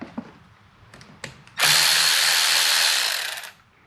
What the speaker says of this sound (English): let's put a socket on this bad boy